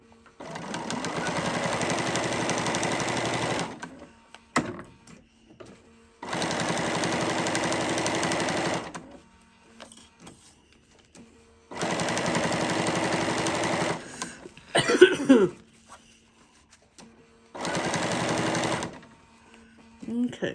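A Bernina sewing machine stitches around the edge of a mermaid tail blanket in four loud, even bursts of rapid stitching, each a few seconds long, separated by quiet pauses.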